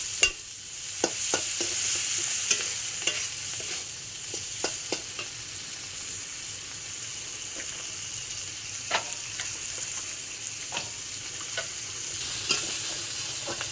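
Raw shrimp with turmeric and salt frying in a pan for a koshu-leaf prawn dish, with a steady sizzle and repeated sharp scrapes and clinks of a spatula stirring throughout.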